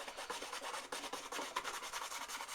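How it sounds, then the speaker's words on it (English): A brush rubs paint sparingly into corners with a steady run of short, scratchy back-and-forth strokes, fairly close and soft, with no voices. "all we want to do is just rub it in again sparingly"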